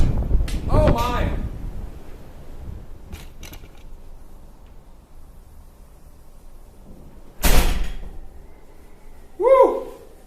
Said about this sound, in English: The door just opened all the way.